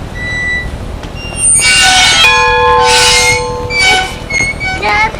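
An old schoolhouse bell rung by hand, striking in several loud, ringing bursts that sustain and overlap, close by and with no talk over them.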